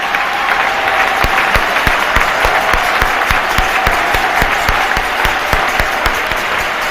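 A church congregation applauds together in steady, dense clapping that fills the whole stretch, loud and close with a lively hall ambience and no clear speech on top.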